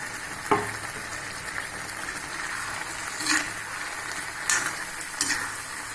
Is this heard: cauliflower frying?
yes